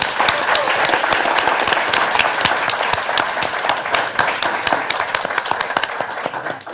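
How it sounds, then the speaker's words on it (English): A round of applause for finalists at the 2025 Wisconsin Civics Games, loud and close with distinct individual claps in a fairly small group, steady for several seconds. "we'll do a quick round of applause for everybody first."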